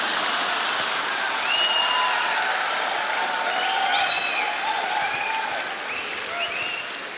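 Audience applause at a motivational business seminar, a dense, steady wall of clapping lasting about seven seconds, with scattered whistles and cheers on top and a slight fade toward the end.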